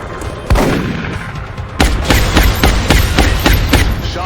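Repeated gunshots from XCOM: Enemy Within, one sharp report followed by a rapid run of loud, evenly spaced shots, close and punchy with no talk over them.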